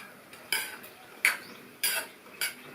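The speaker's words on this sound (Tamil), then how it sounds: "கொத்தமல்லி தழை சேர்த்துட்டு நல்லா ஒரு தடவை மிக்ஸ் பண்ணி விட்டாச்சு" A spoon scrapes and clinks against a pan as vegetable vermicelli upma with coriander leaves is stirred: four sharp metallic taps spaced evenly apart, each with a short scraping tail, close and fairly quiet.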